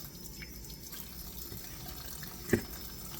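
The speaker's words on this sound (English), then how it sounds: "I'm going to wet my hands, and that's a good way of adjusting the water" Wet hands dripping water while mixing dough for a French-Canadian tourtière meat pie: a single quick drip or splash near the end, over a quiet background hiss.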